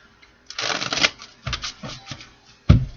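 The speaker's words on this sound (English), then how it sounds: "Spirit wants me to shuffle a little bit more." Tarot cards riffled and shuffled by hand in several quick bursts, crisp papery flutters with short pauses and a soft tap as the deck settles, close and alone.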